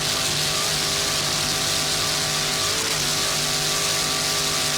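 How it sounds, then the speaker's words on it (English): A 30-foot Phantom offshore powerboat with a 700 hp Blue Thunder inboard and Mercury drive roars at race speed in an offshore grand prix, a loud sustained engine drone that shifts pitch slightly midway. "30-foot Phantom also, powered by 700 horsepower Blue Thunder inboard with a Mercury drive."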